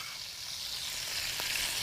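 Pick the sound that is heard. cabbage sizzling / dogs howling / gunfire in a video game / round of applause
cabbage sizzling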